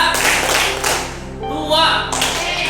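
A school class claps together in short counted bursts, loud and close, with pauses between groups and voices chanting along.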